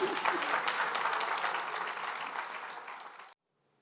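An audience at a public event gives thick, sustained applause that gradually softens, then cuts off abruptly into silence.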